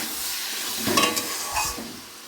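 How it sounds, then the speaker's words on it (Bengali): Banana flower curry (mochar ghonto), a home-style vegetarian dish, is stirred in a pan after garam masala is sprinkled in. A soft, steady sizzle runs underneath two brief louder bursts of scraping, with no talking. "গরম মশলা ছড়িয়ে দিলাম আর একটু নেড়ে চেড়ে"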